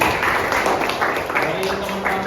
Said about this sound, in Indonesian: Sekali lagi Bapak minta tepuk tangannya dong.